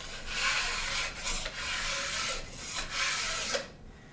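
A hand file scrapes along the steel edge of an alpine ski in repeated light strokes, each rasping pass close and even, separated by short pauses, with no talk.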